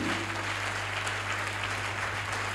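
A church congregation applauds and cheers for the Lord in a steady wash of clapping. It is continuous and moderately loud throughout, with a low constant hum beneath it.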